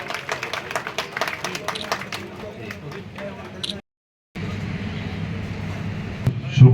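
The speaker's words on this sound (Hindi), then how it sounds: "जोरदार तालियों से स्वागत।" Dense audience clapping at an office inauguration ceremony fills the first few seconds, breaks off into a brief gap, then gives way to a crowd murmur and continued background noise.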